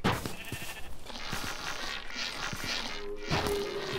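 Sheep bleat in the modded Minecraft game RLCraft. Short in-game bleats and footstep-like clicks sit over a busy background of game ambience.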